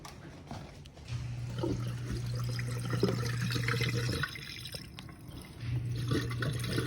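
A dishwasher's drain pump hums steadily while water runs out, a low continuous drone that starts, stops briefly and resumes over trickling, splashing water in a home kitchen during an appliance repair.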